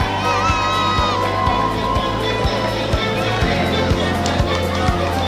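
Crowd at a cross-country race podium in Angers applauding and cheering loudly and continuously, with shouts and whoops and a rhythmic thumping beat behind it, while a voice talks over the noise.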